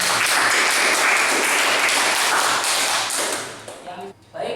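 A classroom group claps for students after an automotive fuel-injection presentation, giving loud, brisk applause that fades out near the end, followed by a few sharp taps and the start of a voice.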